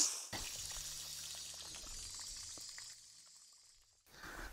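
Water runs from an outdoor faucet, a steady splashing pour that carries on for most of the clip, eases off near the end, then resumes briefly.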